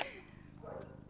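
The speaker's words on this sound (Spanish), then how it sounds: "mis vecinos tienen perros que no dejan de ladrar" Neighbours' dogs barking in the distance behind a home recording, faint yips and barks under a low steady background with a voice murmuring.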